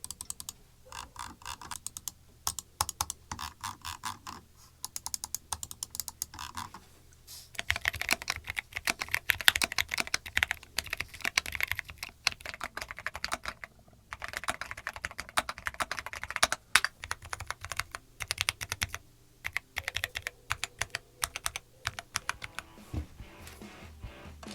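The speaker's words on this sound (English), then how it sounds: "We'll do a little sound test" Fast, crisp clacking of typing on a mechanical computer keyboard, close and dry, in bursts with short pauses throughout, no voices.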